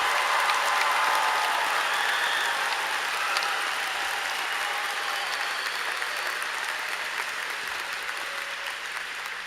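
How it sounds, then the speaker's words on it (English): A large crowd at the Round Rock High School 2022 graduation ceremony gives sustained applause. The dense, steady clapping sounds slightly distant and tapers gently toward the end. "Can I get a final round of applause for the amazing graduates of the class of 2022?"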